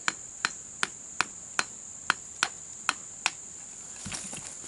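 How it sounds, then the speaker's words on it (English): A hammer lightly pecking a rock outdoors, about nine sharp, evenly spaced taps close by, each a crisp click over a quiet background with a faint steady insect-like whine. "just barely peck it."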